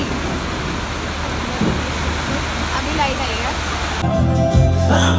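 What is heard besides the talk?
very heavy rain during a power cut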